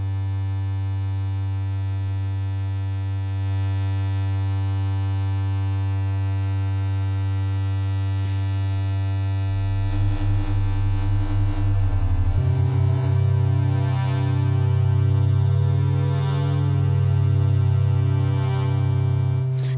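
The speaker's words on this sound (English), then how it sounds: "each of these oscillators also have a pulse width output as well." Pulse width output from an analog synthesizer oscillator, a sustained nasal, buzzy drone rich in harmonics that grows harsher and begins to warble and phase about halfway through, holding steady at moderate volume.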